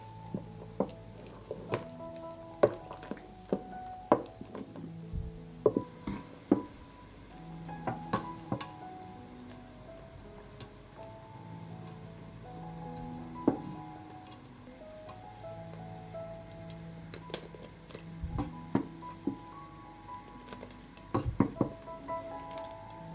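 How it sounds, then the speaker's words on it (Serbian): Milk with egg and sour cream cooking in a pot over low heat, with a faint ongoing sizzle and scattered soft clicks and taps from stirring, quiet and close, under light background music. "Promešat ću i kuvat ću 10 minuta na nižoj temperaturi."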